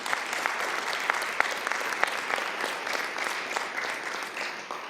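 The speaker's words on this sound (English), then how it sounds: "How about a round of applause for that?" A city council meeting audience applauds, a dense steady patter of many hands at moderate distance with a few sharper claps standing out, continuing evenly for several seconds without speech.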